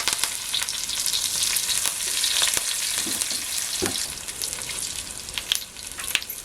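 Garlic and curry leaves sizzle in hot oil on a heated tava as a tempering for frying alu vadi. A dense, close crackle continues throughout, with scattered sharper pops and light stirring scrapes.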